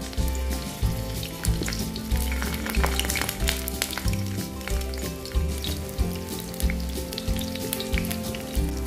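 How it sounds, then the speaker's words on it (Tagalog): Eggplant frying in oil in a pan, a loud, steady sizzle with crackling pops and rhythmic low thumps underneath, no voices. "So, ngayon guys ay prituhin na natin yung eggplant."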